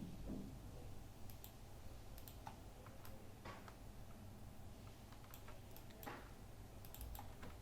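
Typing on a computer keyboard during Photoshop image design work: sparse, faint key clicks at an irregular pace over a quiet room hum, with no talking.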